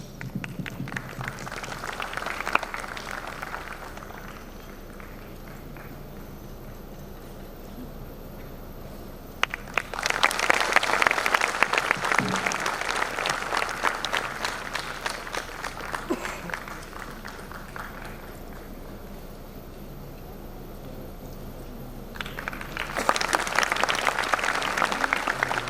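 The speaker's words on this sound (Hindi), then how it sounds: "जोरदार तालियां बजाएं" Audience applause at an Independence Day celebration in an academy hall, with dense clapping bursts swelling loudly around ten seconds and again near the end, separated by quieter crowd murmur and stray claps.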